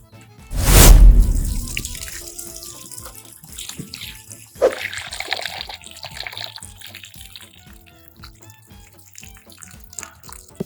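Prawns washed in water with turmeric powder start with a loud splash and pour, then settle into softer sloshing, swishing and scattered drips that fade toward the end.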